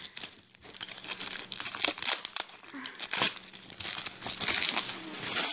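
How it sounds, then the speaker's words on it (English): Postal packing tape is pulled and peeled off a package with crinkly, tearing rips, coming in several uneven bursts close by, with a louder rip at the end. "Let's get off all this postal service tape."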